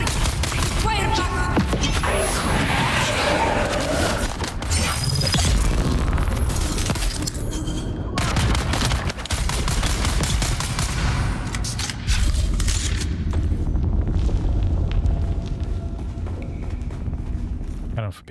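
Dense, loud gunfire and explosions from a Dune Awakening firefight crackle almost without pause for about twenty seconds, with sharp bursts and rumbling booms layered over one another.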